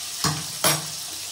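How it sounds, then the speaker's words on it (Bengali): Water goes into a hot pot of fried hilsa for pilaf, producing two short, sharp bursts of hissing sizzle in quick succession over a low background crackle. "এবার জল দিয়ে দেব"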